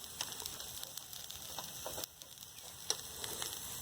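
Shrimp and beef sizzle and crackle steadily on an AJ EG-002 electric hotpot grill, a dense close hiss with scattered small pops and a few light taps as pieces are turned, no voices.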